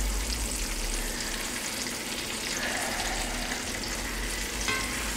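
Butter melting and sizzling over asparagus in a cast iron pan, a steady close frying hiss that runs unbroken throughout with faint crackle and no talk.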